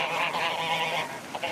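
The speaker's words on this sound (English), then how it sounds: "we're pretty excited to have baby geese up here at Sullivan's Pond" Geese honking at a city park pond where goslings have hatched: a steady chorus of overlapping nasal honks from several birds, moderately close, running continuously with no talking.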